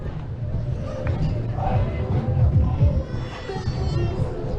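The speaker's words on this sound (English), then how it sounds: "now it's like a whole crowd" A crowd of people dancing and roller skating at Venice Beach makes a lively outdoor hubbub of mixed voices and chatter, with nearby talk layered on top.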